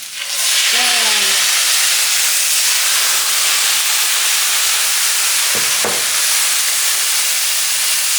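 Wine poured into a hot pan erupts in a loud, sustained hiss of steam and sizzling that holds steady throughout, with a couple of brief clinks or scrapes partway through and no talking.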